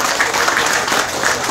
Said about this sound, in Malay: Beri tepukan kepada dia.